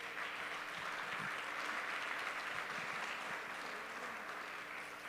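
Church congregation applauding together, a steady dense wash of clapping that holds evenly throughout with a faint low murmur beneath.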